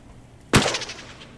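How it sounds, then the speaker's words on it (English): A single loud gunshot rings out in the video game Escape the Backrooms, a sharp crack followed by a short decaying echo, alone with no talk. "I'm getting shot at."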